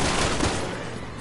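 A loud, short burst of gunfire in Resident Evil, dense overlapping shots that fade slightly by the end, with no talk.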